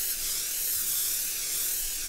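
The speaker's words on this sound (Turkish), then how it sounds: "o paniğin etkisiyle ellerine bir sprey boyayı alarak tekrar rengarenk boyamaya başlamışlar" A spray paint can spraying in one steady, continuous hiss that lasts about two seconds with no pause, heard alone and fairly close.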